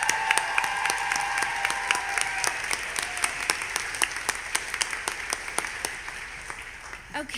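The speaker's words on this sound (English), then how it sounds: "One more round of applause for these amazing students." Audience applause for students on stage at the Marion County Golden Apple awards evening: steady, dense clapping that runs throughout at moderate volume, with some tonal sound early on, then thins slightly near the end.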